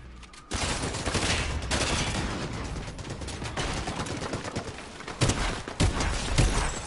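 Rapid bursts of gunfire from the video game Fortnite rattle almost continuously, loud and close, with a few sharper, heavier shots near the end and no talk over them.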